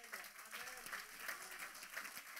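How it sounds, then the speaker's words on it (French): A church congregation claps after morning worship, a soft, fairly faint burst of scattered applause with uneven rhythm, a voice faintly heard beneath. "On peut applaudir le Seigneur?"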